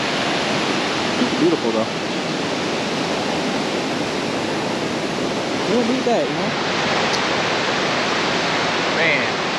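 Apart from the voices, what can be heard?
waterfall in Kings Canyon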